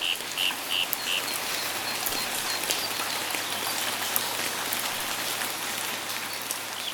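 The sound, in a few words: heavy rain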